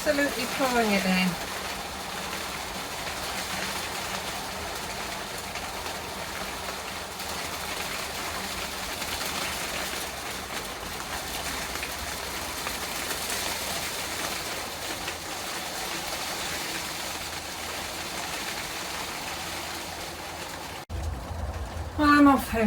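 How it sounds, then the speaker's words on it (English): Heavy rain pours down steadily outdoors as a continuous broadband hiss, close and fairly loud, holding unbroken for about twenty seconds with a few faint bird calls and a brief rustling knock near the end. "It's absolutely pouring it down."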